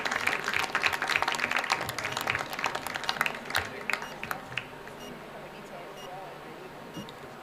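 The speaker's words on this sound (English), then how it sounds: "Delegates, please give them a huge round of applause" Delegates at a school Model United Nations grand finale clap in a sustained round, loud and dense at first, then thinning out and fading toward the end.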